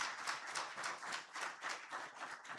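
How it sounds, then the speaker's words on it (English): Audience applause at a conference session, a steady patter of many hands clapping for about two and a half seconds with no voices over it. "if you could put a hand of applause"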